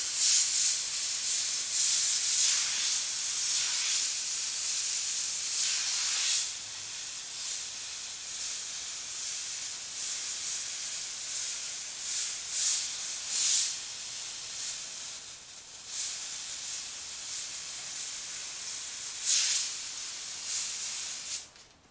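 Airbrush spraying white paint highlights onto a shirt: a steady, loud, close hiss that runs throughout, swelling and easing in short bursts as the trigger is worked, with no talking.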